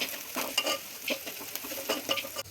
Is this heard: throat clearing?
no